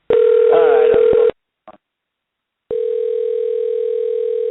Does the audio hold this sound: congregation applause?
no